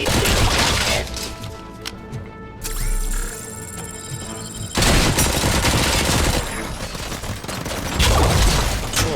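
Sustained gunfire from a RoboCop: Rogue City firefight, dense bursts of shots mixed with loud impacts and crashes, rising and falling in intensity over the whole stretch, with no talking.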